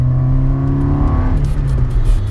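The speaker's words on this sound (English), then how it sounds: "Just little blips and stuff from the throttle." A Citroen Saxo VTR engine runs close by, a steady loud drone with a slight rise in revs from a throttle blip partway through.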